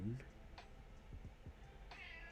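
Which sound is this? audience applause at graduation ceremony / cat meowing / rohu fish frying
cat meowing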